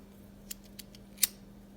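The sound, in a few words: scissors cutting faux leather vinyl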